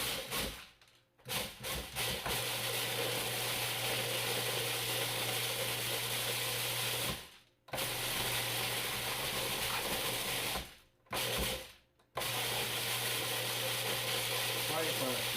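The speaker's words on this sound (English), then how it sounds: "Being that it's a food processor, it's kind of powdery" A food processor grinding dehydrated blueberries whirs loudly and steadily, its motor cutting out briefly a few times before starting up again.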